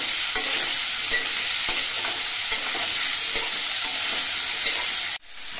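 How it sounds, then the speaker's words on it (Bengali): Red amaranth greens with green chilli and salt stirred in a hot frying pan, a steady close sizzle with scraping spatula strokes, cutting off sharply near the end. "এবার নুন দিয়ে ভালো করে নেড়ে চেড়ে মিশিয়ে নিতে হবে"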